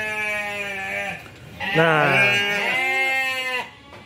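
Goats bleating on a farm, several wavering, tonal calls overlapping one another at close range, loudest in the middle and fading toward the end, with a man's brief spoken word at the start.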